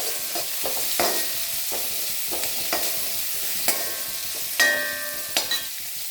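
Chopped onions sautéing in hot ghee in a pan, a steady close sizzle broken by repeated scraping stirs of a spoon, with a couple of sharper metallic clinks near the end.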